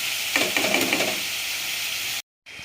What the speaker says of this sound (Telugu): మధ్య మధ్యలో కలుపుకుంటూ ఉండండి.